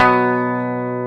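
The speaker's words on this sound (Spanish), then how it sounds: "Yo paso el sonido limpio de la guitarra que suena así" A clean electric guitar with no distortion, one sustained chord ringing clearly and slowly fading, played alone.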